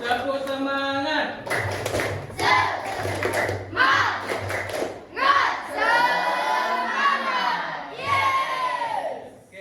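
Children clap a rhythmic spirit chant in a classroom, bursts of clapping and shouting voices trading off with a teacher's voice, loud and close throughout.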